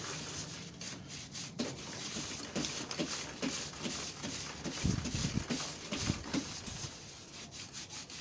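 Brush scrubbing the chain of a Honda CBR500R motorcycle while the rear wheel is spun, a close, rhythmic rasping rub that repeats in quick strokes.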